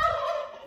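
A turkey at an orphanage in Mozambique gobbles loudly and close by, one rapid warbling call lasting under a second that fades slightly toward the end.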